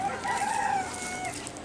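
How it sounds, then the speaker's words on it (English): A rooster crows once, a clear, fairly loud call that rises and trails off over about a second, with farmyard background noise and no speech. "I hear roosters."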